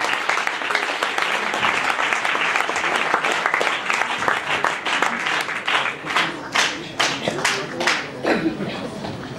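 An audience at the Théâtre Gérard Philipe gives dense, loud, continuous applause to welcome a performer onto the stage, with individual claps standing out as it thins toward the end.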